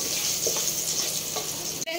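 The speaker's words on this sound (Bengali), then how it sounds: "লাল লাল করে আলুটা একটু ভেজে নেব" Potato pieces coated with turmeric and salt fry in oil while being stirred, giving a continuous close sizzle with soft scraping, and a brief clunk near the end.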